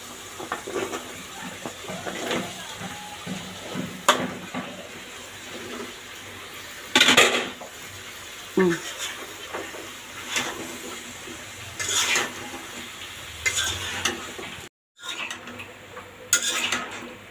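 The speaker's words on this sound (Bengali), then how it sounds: "আমি প্রথমত আলুটা দিয়ে দেই, আর শুটকি তরকারিতে ছিলকা সহ আলু দিলে কিন্তু মজা হয়।" Skin-on potatoes go into a dried fish curry in a pan and are stirred, with scattered metallic spoon scrapes and clinks against the pan over a low background hiss, close up.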